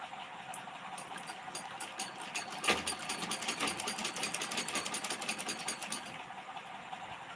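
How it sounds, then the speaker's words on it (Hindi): A sewing machine runs steadily while stitching clothes, its fast even needle chatter close and continuous throughout, with one brief knock partway through and no talk. "हम उनके इंतजार में ऐसे सिलते कपड़ा बैठे रहते हैं दीदी।"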